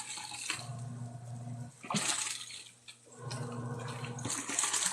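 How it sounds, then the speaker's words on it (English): Water is wrung from a household sponge by hand, giving splashy, dripping squeezes in two main bursts, close and fairly quiet. "These sponges are like really hard to squeeze one-handed."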